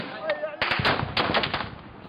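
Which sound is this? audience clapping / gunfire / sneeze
gunfire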